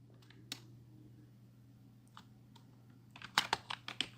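Keys clack on a computer keyboard, a few scattered taps at first and then a quick burst of typing near the end, close and quiet.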